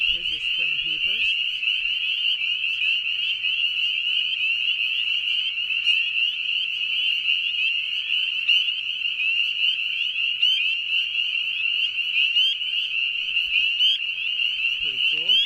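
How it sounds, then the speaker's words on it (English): Spring peeper frogs call in a dense, continuous chorus of shrill, high peeps from a nature recording. The sound stays steady and loud throughout, with a brief voice at the start. "Here's your spring peepers."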